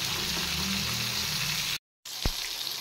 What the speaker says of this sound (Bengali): এবার পটল ভেজে নেব।